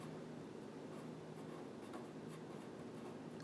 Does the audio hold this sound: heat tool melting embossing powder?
no